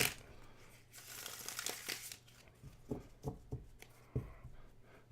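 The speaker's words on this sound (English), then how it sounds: "after I do this 3rd shuffle" A deck of cards being shuffled by hand during a card reading: close, dry papery riffles and crinkly rustles in a burst, then several separate soft slaps and taps of the cards settling.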